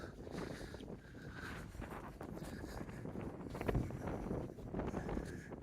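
Wind buffets the microphones outdoors on the coast near the village of Rhossili, a faint, continuous rough rumble and hiss that swells and dips in uneven gusts.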